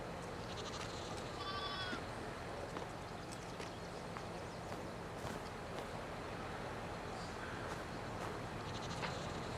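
Sheep in a Farming Simulator 22 pen bleat a few times, faint and somewhat distant, over a steady low ambient farm hum with insect-like chirps.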